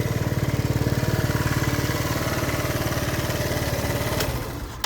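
A Lance Cabo scooter's small engine runs at a rapid, even, pulsing idle, chugging steadily before the sound drops off near the end.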